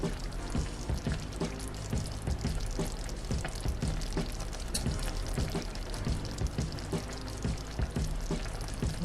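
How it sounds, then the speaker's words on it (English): Andouille sausage, bay leaves and okra simmer together in a pot of Creole stew, giving a steady, close bubbling and sizzling hiss with small pops throughout and no talking. "So you see the sausage, the bay leaves, the okra are all simmering together in this delicious"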